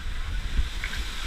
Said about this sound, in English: the wind is pretty strong here